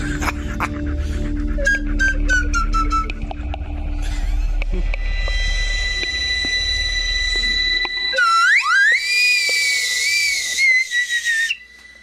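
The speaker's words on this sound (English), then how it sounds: "You should hit that slide whistle on the way out" A loud whistle glides up and down in pitch, swooping and wavering for several seconds after a busy, noisy stretch.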